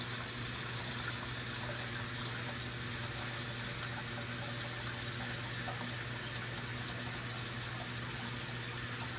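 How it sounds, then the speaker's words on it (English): Water drains from opened ports on an irrigation backflow preventer during winterizing, a steady, even rushing and hissing flow that holds constant throughout with no talk. "Go ahead and open that up. Let that water out."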